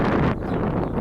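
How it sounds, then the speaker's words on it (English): Wind gusts across a garden on a blustery day, buffeting the microphone with a steady, close, rough roar that dips briefly partway through. "today is quite a windy day here."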